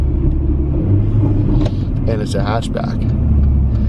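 A Mercedes GLA 45 AMG hatchback rumbles with a deep engine drone and a faint turbo whistle, while someone talks over it up close.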